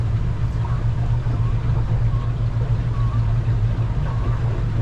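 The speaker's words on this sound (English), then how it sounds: "Now I'm going to trim that motor down." Steady idling drone from twin Yamaha F200 outboard motors on a Defiance 26 boat as one motor is trimmed down, a continuous low hum with a faint whirring whine rising over it, close and even in level.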